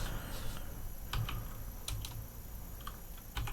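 A computer keyboard is used to type a folder name, producing scattered, quick key clicks in short bursts over a low, steady background hum.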